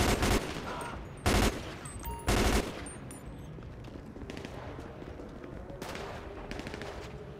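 Gunfire in GTA 5 on a police gang-unit patrol: three loud, sharp bursts of shots early on, then quieter scattered pops over a steady game ambience.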